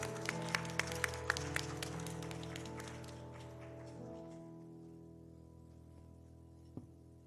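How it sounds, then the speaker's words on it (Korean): A Korean church congregation at an afternoon praise service claps, opening with a few sharp distinct claps that blend into a soft, even round of applause before fading to a quiet hum of the room. "영광의 박수 올려드리겠습니다"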